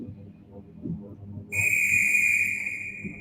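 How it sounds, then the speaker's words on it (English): A train conductor's shrill, steady whistle blows for about two seconds, sounding over low background rumble and murmuring. "it's a whistle"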